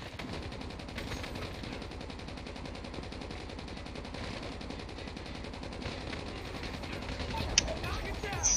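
Continuous rapid automatic gunfire rattles steadily in a Call of Duty match, a dense machine-gun stream running throughout with voices faintly underneath.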